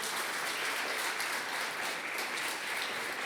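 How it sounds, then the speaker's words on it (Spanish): Church congregation applauding loudly and steadily throughout, a dense, continuous wash of clapping with no pauses. "dele palmas al Rey, apláudele fuerte, por favor"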